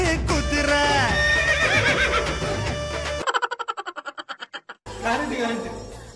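A voice imitates a horse's whinny on a comedy game show stage, a rapid pulsing, falling series of neigh-like bursts set between stretches of loud music.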